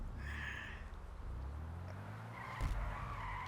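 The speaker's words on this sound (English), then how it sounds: "If we can pull out without hitting their car." A car in the game GTA Online pulls out at a car wash, tires squealing and skidding over a low engine hum, with a louder surge near the end.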